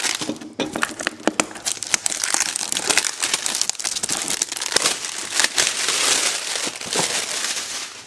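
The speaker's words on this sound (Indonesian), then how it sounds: "Dengarkan suara plastik unboxing." Plastic packaging crinkles loudly and continuously up close while a new Tenda AC6 AC1200 dual-band WiFi router is unboxed, with dense crackling and crumpling throughout and no talking.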